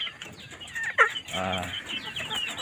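Chicks of a mixed-breed village chicken cluck and chirp close by, a few short calls overlapping against a quiet background.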